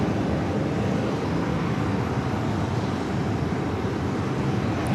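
Broad, steady roar of a Lufthansa 747-400 jet taking off from JFK on runway 4 left, heard from a distance as a sustained rumble with no talk.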